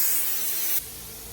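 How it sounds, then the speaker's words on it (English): Product sprayed liberally across a surface to bring out metallic flakes, a steady close hiss that drops to a quieter, softer spray partway through. "Just go over it liberally. Not really aiming to a specific spot, just basically we spray it over."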